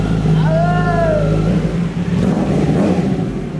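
A motorcycle engine revs up with a rising whine, then settles into a deep, throaty idle rumble.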